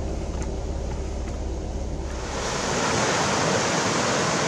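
Crystal River rushing over rocks, a broad steady roar of churning water that swells louder about halfway through, close and continuous with no voices.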